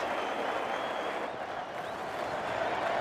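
A dense cricket crowd at a 1996 New Year's Day Australia v West Indies one-day international roars and applauds steadily throughout, a broad continuous wash of cheering with no let-up.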